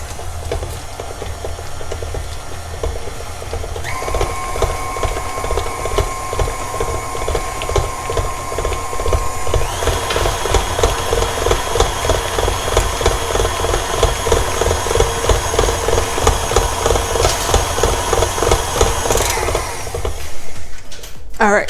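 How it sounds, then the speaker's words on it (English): KitchenAid stand mixer with the paddle attachment beating room-temperature butter, a steady, close motor whir with rhythmic clattering that grows louder and busier partway through, and a voice speaking at times. "I'm gonna beat it real quick"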